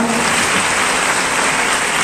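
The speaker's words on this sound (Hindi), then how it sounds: "ठोको ताली" Audience applause at a live talk-show event, a dense steady wash of clapping from a crowd, loud and continuous throughout with no voices over it.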